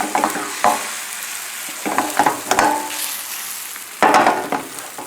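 A prosciutto and Boursin cheese omelet sizzling in a pan, soft frying crackle punctuated by several sharp bursts as the egg is pushed and moved, close up with quiet gaps between.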